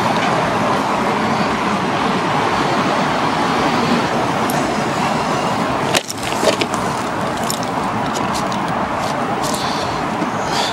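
A white Siberia Mini R 2.0 1200W electric mini scooter strains to climb a slope outdoors, giving a steady, fairly loud drone with wind and road-like noise throughout and a brief bump or clatter midway.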